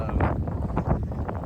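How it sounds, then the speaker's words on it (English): Strong wind buffets the microphone at an off-road Jeep event in Oklahoma, a loud, gusty low rumble with irregular puffs and surges. "it is stupid windy, so I'm gonna try to block off the microphone."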